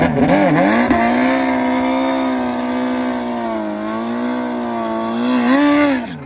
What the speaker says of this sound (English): That's the launch RPM, two-stage rev limiter.